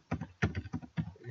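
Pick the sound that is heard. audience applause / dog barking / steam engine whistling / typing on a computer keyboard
typing on a computer keyboard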